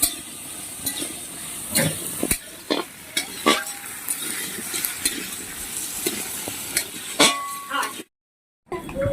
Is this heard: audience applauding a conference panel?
no